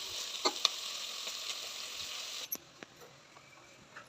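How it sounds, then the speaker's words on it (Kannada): Chopped onion and grated coconut frying in a pan for an egg palya, a steady close sizzle with a few brief stirring clicks and scrapes, ending in a sharper clatter near the end. "ಈಗ ಈರುಳ್ಳಿ ಹುರ್ಕೊಂಡು ಕಾಯಿ ತುರಿ ಹಾಕೊಂಡು ಒಂದು ಸ್ವಲ್ಪ ಹುರ್ಕೊಂಡು"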